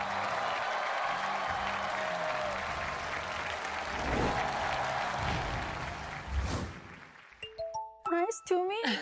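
Large studio audience at a televised singing competition applauding to welcome performers to the stage, a dense sustained roar of clapping that fades near the end into short bright chimes and tones.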